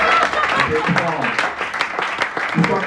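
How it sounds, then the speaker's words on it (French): Comedy club audience claps and applauds for a Chadian comedian, a short burst of scattered hand claps mixed with crowd voices and chatter. "Non, on applaudit pour le Tchadien."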